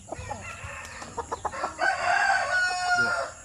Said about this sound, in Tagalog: Sobrang laki na manok.